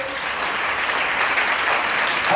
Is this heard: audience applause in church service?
yes